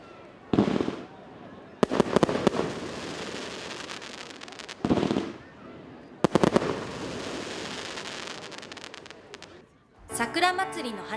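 Fireworks launch and burst repeatedly at a cherry blossom festival in Togane, Japan, fired low from Bentenjima island, with booming pops and crackling bursts in clusters; a voice speaks near the end.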